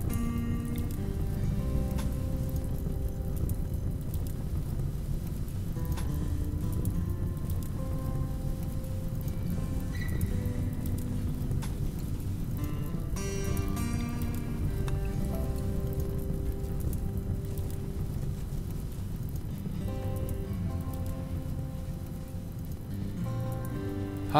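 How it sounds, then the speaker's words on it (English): Steady rain falls in the RimWorld video game, a continuous soft patter that lasts throughout under a low background of game music and effects. "I got rain."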